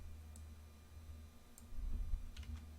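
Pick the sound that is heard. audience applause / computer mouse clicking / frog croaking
computer mouse clicking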